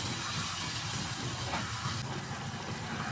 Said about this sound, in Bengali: মাংসটা দিয়ে এখন আমি ভালো করে কষিয়ে নিব।